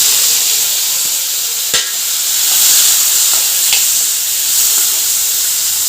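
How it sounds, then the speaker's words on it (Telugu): Tomatoes sizzle in hot oil in a pan for bottle gourd chutney, giving a steady frying hiss with a brief crackle or stir near the middle, fairly loud and close with no talking. "ఇదే ఆయిల్లో టమాటాలు కూడా వేసి ఇవి కూడా ఉడికన్నా"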